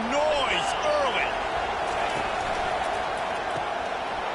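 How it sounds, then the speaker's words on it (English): Stadium crowd at a football game roars as a broad, steady wash of noise, with a few rising cheers and whistles near the start, continuing under a commentator's voice. "This crowd bringing the energy and noise early."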